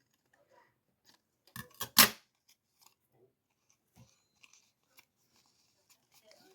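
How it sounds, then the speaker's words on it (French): Metal scissors are set down on a table with a couple of sharp, loud clacks, close and abrupt, followed by faint scattered handling taps in an otherwise quiet room. "je me m'aperçois que mes ciseaux faisaient un bruit énorme quand je les pose."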